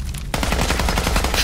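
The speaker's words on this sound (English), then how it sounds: "Assault rifle." Assault rifle fire in the Fallout 4 video game: after a brief lull, a loud, rapid automatic burst of rounds runs steadily to the end, up close.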